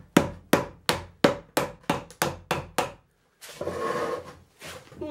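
Nine sharp, evenly spaced knocks of a plastic mallet striking the wooden handle of a chisel, close and loud, followed by a stretch of rustling shuffling noise.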